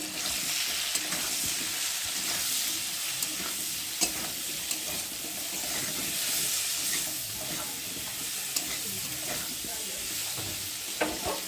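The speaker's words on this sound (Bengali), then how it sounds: "দিয়ে মশলাটা ভালোভাবে আলুর সাথে কষিয়ে নেব" Potatoes stir-fried in a pan with spice paste, tomato, green chilli and cumin powder for a cauliflower and prawn curry: a steady close sizzle with scattered scraping clicks of the spatula throughout, no talk.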